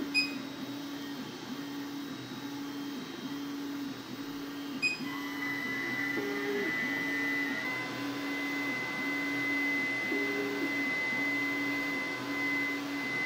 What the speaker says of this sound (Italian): se andiamo ad attivare l'asciugatrice